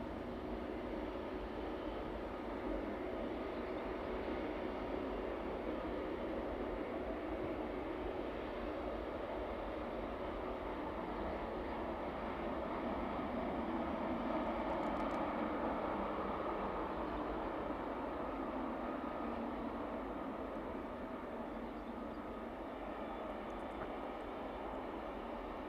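A Ryanair jet bound for Valencia at East Midlands Airport produces a loud, steady engine roar that holds without a break throughout, swelling slightly near the middle.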